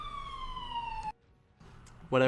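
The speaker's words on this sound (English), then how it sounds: "an ambulance goes flying by" An ambulance siren wails past, its loud falling tone lasting about a second before cutting off abruptly, followed by quiet and then a sudden burst of other sound.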